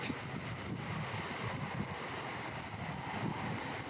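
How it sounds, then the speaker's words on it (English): Wind buffets the microphone in a steady, rough roar, loud and continuous with gusty low rumbling throughout and no voices. "It's still windy"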